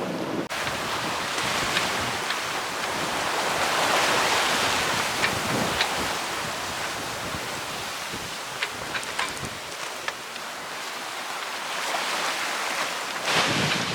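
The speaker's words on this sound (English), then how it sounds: "that's setting up quite a nasty little choppy sea. But we're ploughing through it." Sailboat doing about 7 knots through a choppy, lumpy sea in the Loo Channel with 26-knot wind: a constant loud rush of wind and water with hull slaps and spray, close and unbroken, no talk.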